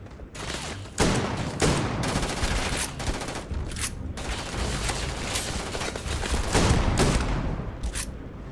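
Shotgun fire in the video game Starfield, a rapid run of loud blasts, some overlapping into bursts, repeating across the whole stretch.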